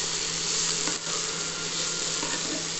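Brinjal fry being stirred in a pan of hot oil with mustard seeds, cumin and garlic: a steady, close hiss of frying with a brief scrape of the spoon, no voices.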